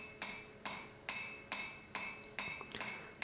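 Hammer blows on a forged wrought-iron viking hammer head, drawing out its cheeks on an anvil crossbeam: eight sharp ringing strikes at a steady rhythm, close and loud, with a quick double tap near the end.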